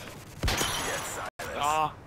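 A sharp sniper rifle shot from a competitive aviator-mode video game rings out loudly amid busy game noise, followed after a brief dropout by an excited voice calling out.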